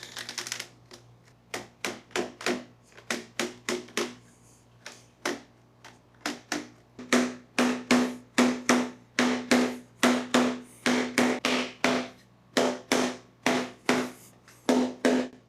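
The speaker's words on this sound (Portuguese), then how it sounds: "O poder do martelo de borracha. Eu bati nisso aqui bem mais forte do que da primeira vez" A rubber mallet strikes a PVC pipe fishing rod holder again and again, giving sharp, evenly spaced knocks that come more quickly and grow louder toward the end.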